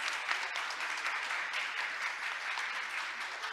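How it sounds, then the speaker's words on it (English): An audience at a maritime-week ceremony gives a steady, dense round of applause that holds at even strength throughout, with no voices over it. "Let's give him a warm round of applause."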